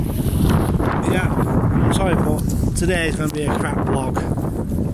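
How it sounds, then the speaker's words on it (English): Gusty wind buffets a microphone outdoors, a constant low roar under someone talking close to the camera throughout. "Bloody hell, it's windy."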